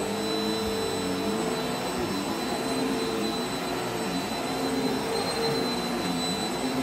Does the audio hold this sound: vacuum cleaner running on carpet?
yes